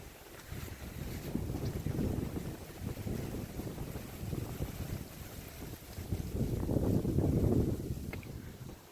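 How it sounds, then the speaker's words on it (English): Strong wind gusting through a snow storm in Havre, Montana, with branches coming down; loud, continuous low roaring buffets that swell and ease, peaking again near the end, with no talk. "still a lot of wind, a lot of branches coming down"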